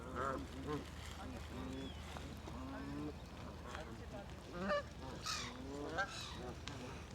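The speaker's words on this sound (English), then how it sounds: "I don't know what type of geese these are" Geese honk repeatedly at a park lake in a country park, several loud calls near and farther off rising over a steady outdoor background, with a person talking at times.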